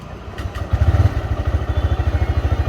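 A new TVS Raider 125 motorcycle with an engine warning light on starts up. A brief crank leads into a steady, close, loud rhythmic idle thump.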